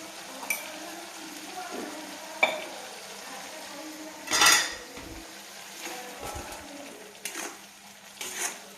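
Spoon scraping and clinking against a pan as soybean chunks are stirred into frying masala, with scattered metallic knocks and a soft background sizzle, moderately close.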